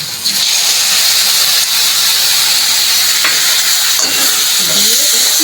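Ginger-cumin paste goes into a hot pan of oil for an Indian home-cooked curry, and a loud, steady sizzle and hiss fills the whole stretch, with faint scraping of stirring underneath.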